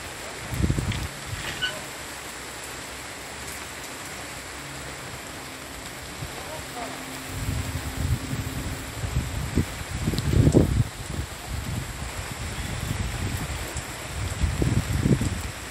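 Rain falls in bright sunshine under a mostly clear sky, a continuous close hiss of drops with intermittent low rustling bursts and knocks throughout.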